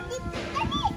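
A dog barks and yips briefly nearby while people talk over it.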